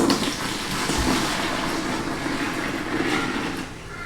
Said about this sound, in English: I'm going to pour the mixture into my bucket